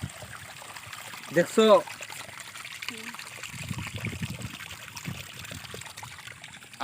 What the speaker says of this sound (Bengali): এই যে দেখো এই পানি স্রোত